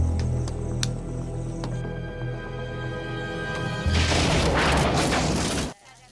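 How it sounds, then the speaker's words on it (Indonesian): A grenade thrown into a room explodes in a war film: a loud, sudden blast bursts out about two-thirds of the way through, following a stretch of low rumbling, then cuts off sharply. "tiba-tiba ada seorang yang melempar granat ke sana"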